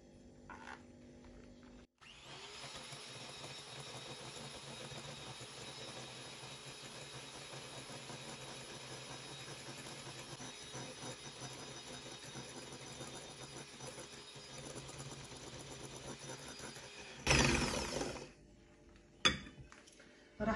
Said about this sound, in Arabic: بخفقن على سرعة عالية.